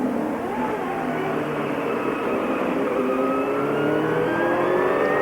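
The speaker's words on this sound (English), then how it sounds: "On board Robbie Gordon's car" Onboard engine of Robbie Gordon's CART IndyCar race car at the 1995 Long Beach street race, a loud continuous roar with rising revs as it accelerates, the camera mounted on the cowling behind the pop-off valve.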